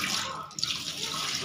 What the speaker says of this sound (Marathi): बघा पाण्याखाली छान असं स्वच्छ धुवून घ्यायचे.